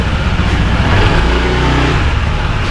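Motor vehicle engine running loud and close, a steady low rumble with slight revving as Papa Ryan's motorcycle pulls away, no talk over it.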